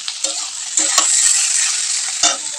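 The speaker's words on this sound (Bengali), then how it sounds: "আলু আর ক্যাপসিকাম পেঁয়াজ লঙ্কাগুলো দিয়ে সব সুন্দর করে এখন ভেজে" Potatoes, onion and chilies fry in a pan for homemade chowmein, a loud close sizzle broken by a few sharp spatula clatters as they are stirred.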